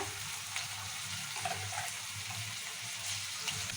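Ivy gourd and moong dal curry fries in a pan while being stirred, a steady close sizzle with soft scraping and wet stirring clicks, no voices.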